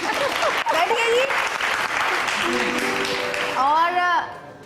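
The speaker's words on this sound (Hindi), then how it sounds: "नजमा के लिए तालियां बजाइए।" Studio audience applause on an Express Entertainment morning show, steady dense clapping that fills the room and carries on throughout, with cheering voices rising over it near the end.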